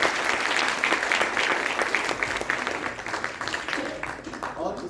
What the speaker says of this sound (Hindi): तो एक बार इनके लिए फिर से तालियां।